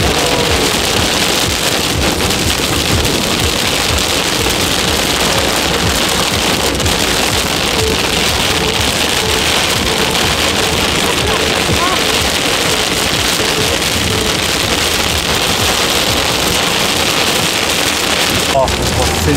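Heavy thunderstorm rain drums steadily and loudly on a car without letup, a dense hiss filling the whole stretch with no pauses.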